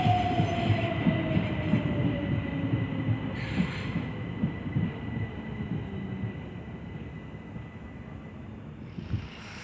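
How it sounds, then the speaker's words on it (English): A South Western Railway train rolls into Fratton station with a low rumble of wheels on track and a long, faint descending whine that fades as it slows, with no voices. "Arriving now is the 1137 South Western Railway service from Southampton Central, terminating here."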